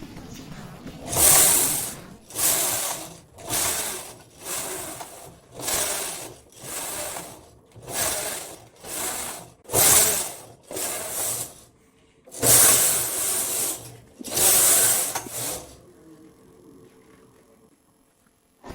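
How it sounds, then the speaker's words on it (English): A Silver Reed SK280 knitting machine knits stockinette rows, its carriage swept back and forth in a steady series of loud rasping, whooshing passes, each about a second long, with a short pause partway through. "Zero the row counter and knit 86 rows."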